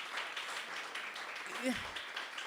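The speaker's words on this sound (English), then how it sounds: "Round of applause for Adeshewa." Applause for a playwright at a playwriting competition, a steady wash of clapping from an audience that holds for the whole stretch, with a brief voice cutting in near the end.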